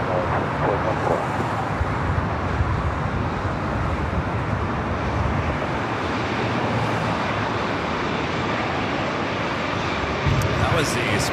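Allegiant Airbus A319 jet in Las Vegas Raiders livery at LAX, a loud, broadband engine roar that holds steady close by, with a faint voice beneath it.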